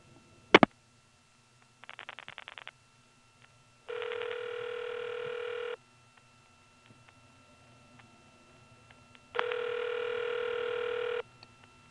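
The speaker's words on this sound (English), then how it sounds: "You can hear a customer dialing on the recording queue while it's ringing" On a 1977 step-by-step exchange line, a loud click is followed by a quick burst of dial pulses and then two long ringback tones, with faint clicking from a caller dialing in the background.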